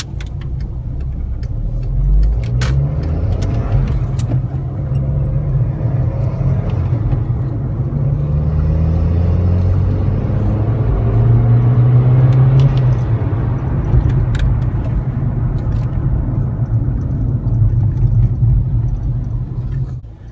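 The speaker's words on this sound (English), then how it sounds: "we'll have to perform another boost run to record a new peak boost" A car with a GFB G-Force II boost controller making a turbo boost run, the engine droning and rumbling loudly from inside the cabin as revs climb and fall over about twenty seconds, no talking.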